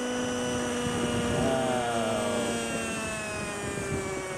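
Steady whirring rotor drone of a small radio-controlled model helicopter hovering nearby, with a constant high-pitched whine and a slight pitch dip midway.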